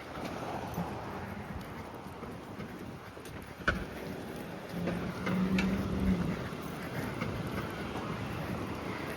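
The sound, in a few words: rain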